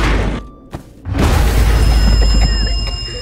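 A grenade goes off in The Walking Dead video game: a brief thump and dip, then a heavy, loud boom that swells into a sustained rumbling roar with crackling debris.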